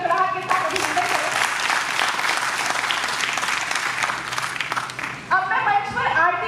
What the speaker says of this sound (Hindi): उनका भी तालियों की गड़गड़ाहट के साथ अभिनंदन करें